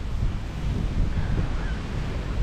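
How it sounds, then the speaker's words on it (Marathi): Sea waves at Nha Trang beach in Vietnam roll in as a continuous low roar of surf mixed with wind buffeting the microphone, steady and fairly loud with no talking. "लाटासुद्धा पाणी आतमध्ये खेचून घेते"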